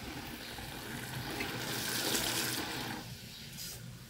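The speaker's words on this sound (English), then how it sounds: "just need to turn up the water" Tap water running while grocery items are washed: a steady, hissing splash of flowing water that swells and then softens, with faint handling noise, no talk.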